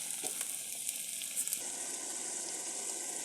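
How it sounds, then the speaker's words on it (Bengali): Fish frying in mustard oil with onion, chili and garlic, a close, steady hiss of hot oil with faint crackles and a couple of soft stirring touches, no voices. "আমার মাছ ভাজিটা হয়ে গেছে অনেকটাই প্রায়, আর কিছুক্ষণ রাখবো"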